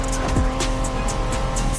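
A 1990s Honda NSX races in The Crew Motorfest video game, with a loud, close engine roar and a brief tire squeal over about two seconds.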